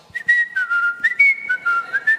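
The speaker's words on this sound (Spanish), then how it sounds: "y ese día andas silbando" A person whistles a short melodic tune, clear and close, with several sliding, sustained notes that rise and fall over about two seconds, no talking.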